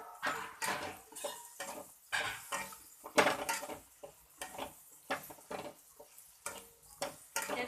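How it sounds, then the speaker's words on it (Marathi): Fried bombil (Bombay duck) fish is tipped into a pan and stirred, producing repeated rhythmic scraping and clattering strokes of a utensil against the cookware, fairly close and unaccompanied by voices. "हे तळलेले बोंबील टाकायचे त्याच्यात"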